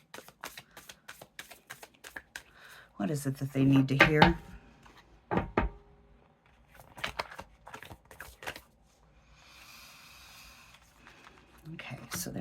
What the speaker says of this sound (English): Okay, so there's one. I'll finish through the shuffle.